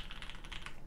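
Rapid keystrokes on a custom linear keyboard fitted with vintage West German Cherry MX Black switches, fully lubed, a steady run of close, crisp clacks with no voices.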